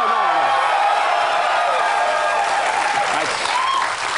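A television studio audience on a late-night talk show breaks into sustained applause and cheering, loud and continuous, with some voices and whistle-like tones rising through it.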